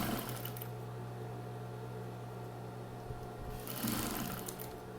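A sewing machine stitches steadily around the edge of a bathroom set piece, humming with a close, continuous whir that rises briefly near the end.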